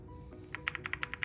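An F87 TKL mechanical keyboard with pinging switches is typed on in a quick burst of about eight sharp keystrokes, each leaving a bright metallic ring, heard close up and alone after a brief quiet start.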